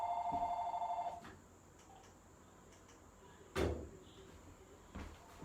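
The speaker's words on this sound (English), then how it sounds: "And got a phone call." A telephone bell rings once near the start, a bright trilling burst of about a second, followed by a quiet room with a few thumps and knocks.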